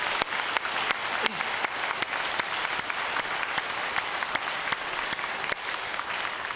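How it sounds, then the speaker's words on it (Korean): Church congregation applauding at the close of a youth-led dedication worship service, a steady dense wash of clapping with a few sharper claps standing out, sustained evenly throughout. "우리 박수로 격려하겠습니다"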